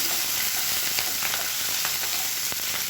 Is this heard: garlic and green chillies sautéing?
yes